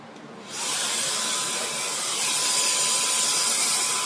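Compressed air hisses steadily and loudly after a brief quieter start, blowing loose sand out of a sand casting mold for a cast iron roller for a cane mill.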